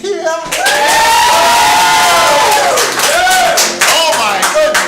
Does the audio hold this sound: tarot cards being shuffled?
no